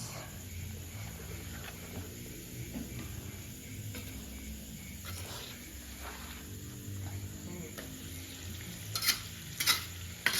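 Rica-rica spice paste of shallots, pepper, chili and bay leaves fries in a pan with a steady sizzle, while a utensil stirs and scrapes at intervals and a few louder knocks come near the end, all close and unbroken.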